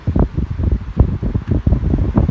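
An old Raks electric fan fitted with a new propeller runs steadily at close range, giving a continuous whooshing, fluttering rush of air with a rhythmic pulsing from the blades.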